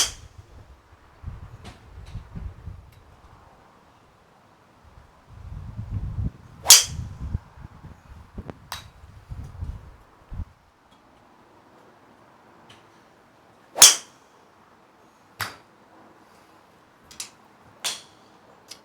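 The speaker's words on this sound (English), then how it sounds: "Let's move on to the regular, hit 3 shots with that one." Golf shots struck with a Ping G400 3-wood fitted with a regular flex shaft, three crisp isolated clicks of club on ball spaced several seconds apart, with faint talk and shuffling in the first half.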